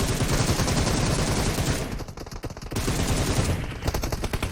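Sustained automatic gunfire in PUBG Mobile, a loud, rapid stream of shots that briefly thins out near the middle before resuming just as dense, with no talking.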